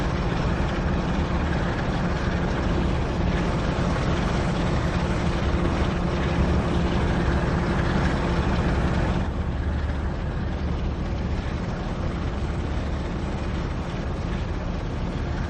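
Class 45/1 diesel locomotive in Train Sim World 5 running at full throttle on a Leeds to Manchester Victoria service, a loud, steady broadband engine roar with a constant low drone that holds throughout.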